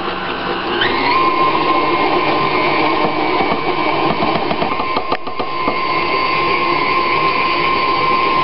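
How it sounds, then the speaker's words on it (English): An electric mixer whirs steadily as cupcake batter for pineapple upside-down cupcakes is beaten in the bowl, a constant motor hum with a slight pitch shift at the start. "now we're going to actually start feeding it into the mixer"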